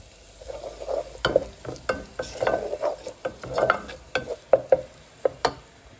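Garlic and crushed chili flakes fry in a pan for hoilfa chutney. A close, steady sizzle sits under repeated stirring scrapes and sharp spatula taps against the pan, with no voices.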